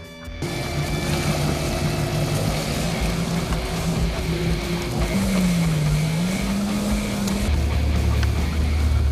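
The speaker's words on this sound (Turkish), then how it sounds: "Şimdi Bilge tekneyle açılıyoruz." A motorboat engine drones steadily and loudly off Kuşadası, Turkey, its pitch wavering as the throttle shifts, with rushing water and wind underneath.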